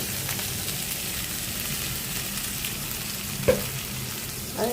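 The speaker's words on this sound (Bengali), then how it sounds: "আর এই যে মাছটা ভেজে রাখছি" Boal fish fries in hot oil with a dense, continuous sizzle heard up close, steady throughout apart from one brief clink near the end.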